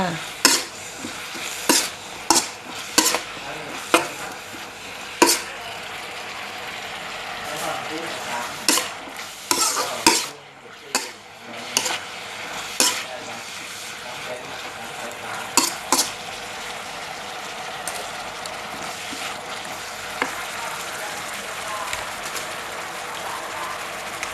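Beef is stir-fried in a hot pan for a dish with kale tops over rice, a steady loud sizzle running throughout under repeated sharp scrapes and clanks of a utensil against the pan, with a short lull midway.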